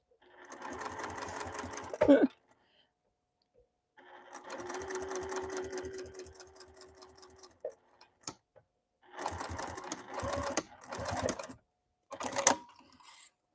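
A sewing machine stitching a hoodie runs in several bursts, each a rapid, even mechanical chatter lasting a second to a few seconds, separated by short pauses and sharp clicks, close and loud with no speech.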